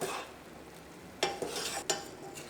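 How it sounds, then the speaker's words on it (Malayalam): Beef simmering in a boiling pot of a Kerala beef pickle, stirred with a spoon: soft bubbling under a few quick scraping clinks against the pot, close and quiet. "നമുക്ക് ബീഫ് ഒന്ന് ഇളക്കിയിട്ട് കൊടുക്കാം."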